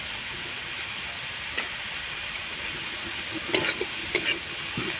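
Cauliflower pieces sizzle and hiss steadily as they fry in a pan, with a few soft stirring knocks and scrapes breaking through the continuous frying noise.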